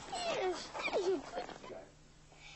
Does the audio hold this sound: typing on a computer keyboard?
no